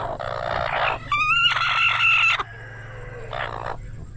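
Chickens at a nest where two hens sit on eggs make close, loud calls: a rooster-like crow rises and breaks off, then shorter clucks follow after a pause.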